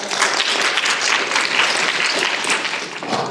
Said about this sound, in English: can we just get a preliminary round of applause for them?